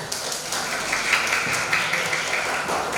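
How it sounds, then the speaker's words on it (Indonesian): Elementary schoolchildren clapping together in a classroom, a dense, lively patter of many small hands held at an even level for the whole stretch, with no talk over it. "Tepuk tangan dulu."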